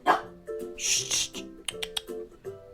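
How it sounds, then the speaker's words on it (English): A dog barks indoors in a home while someone does paper crafts, a few short yips and barks in bursts, moderately near and not very loud, with brief quiet gaps between. "sorry about the dog barking"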